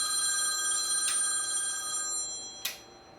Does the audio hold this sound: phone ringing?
yes